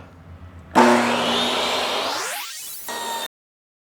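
Saw cutting through wood while a workbench is being built, starting abruptly with a loud, steady rasp that sweeps upward in pitch as the cut finishes, then a brief higher whine before stopping.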